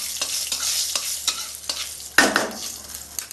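Cumin paste is stirred into hot oil already holding fenugreek, nigella and fennel seeds, giving a soft crackle under repeated spatula scrapes and a sharp, loud sizzling burst partway through.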